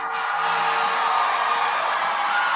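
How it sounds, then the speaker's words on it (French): A large church-service audience at an Orlando gathering applauding and cheering, a dense, steady wash of clapping and crowd noise filling the whole moment without any break. "Applaudissez bien fort et accueillons nos chers prophètes."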